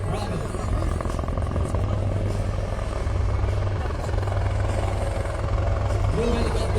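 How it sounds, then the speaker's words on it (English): Loud, steady thrum of military helicopter rotors and engines close by at a military tattoo in Kolkata, a continuous chopping drone with voices faintly underneath. "being extricated by Group Mark III helicopters of 204 Army Aviation Squadron, flown by Lieutenant Colonel A.S. Ranger"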